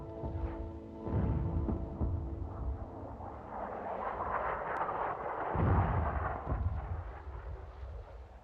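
Artillery firing smoke shells at the front, deep rolling booms and heavy rumbling blasts overlapping in a continuous loud barrage, with a low droning tone early on and a fresh surge of rumble near the end.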